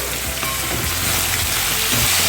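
Chopped potatoes and cauliflower frying on a medium-low flame, a steady close crackling sizzle with occasional soft stirring scrapes, fairly loud throughout.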